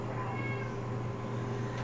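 Cats meowing insistently before feeding time, a steady close run of cries with no talking.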